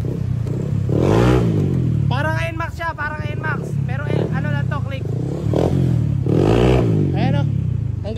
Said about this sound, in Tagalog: Testing na lang natin, tetesting yung motor.